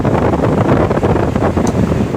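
A repaired electric fan's motor runs at high speed, blowing a loud, steady rush of air straight into the microphone with constant buffeting and no voices.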